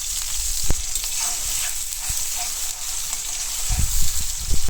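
Onion frying in oil in a pan, a steady hiss of sizzling punctuated by sharp utensil taps and scraping stir strokes, growing busier and louder toward the end.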